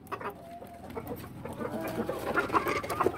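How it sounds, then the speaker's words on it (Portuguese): A rooster clucks and murmurs in short, irregular bursts, fairly close, with faint background farmyard noise and no talking. "É um belíssimo galo"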